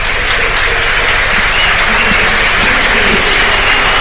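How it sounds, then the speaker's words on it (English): Home crowd at a Luton Town football match versus Sunderland applauding a substitute as he leaves, a dense, steady wash of clapping and crowd noise filling the stadium throughout, with no clear voices above it. "And the home crowd rise to acclaim Alex Pritchard."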